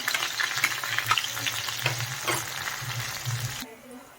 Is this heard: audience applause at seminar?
no